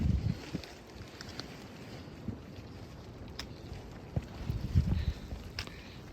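Wind gusting across the summit of Albert Mountain on the Appalachian Trail, a steady broadband rush with buffeting on the microphone and a few louder gusts, no talking.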